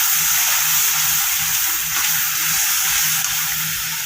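Spice paste with browned onions sizzles and fries steadily in a pan just after a splash of water, for a home-style prawn, potato and bitter gourd curry; a loud, continuous hiss with no talking.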